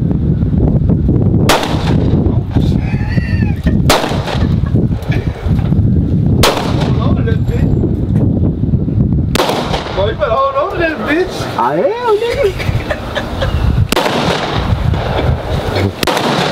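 A brand new AR-15 rifle with no iron sights or attachments fires single loud, sharp shots spaced a few seconds apart, each with a short echoing tail, while people talk excitedly between shots.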